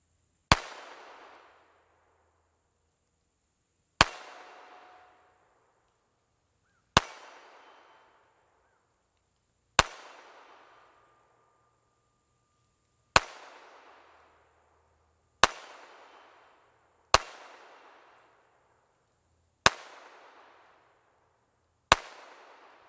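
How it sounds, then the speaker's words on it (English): A newer-version Walther P22 pistol fires subsonic ammunition with a limp-wristed grip, nine sharp single shots spaced a few seconds apart, each a crisp crack with a short ringing decay and no talk between. "this Walther P22, the newer version, just allowed me to limp-wrist subsonic ammo"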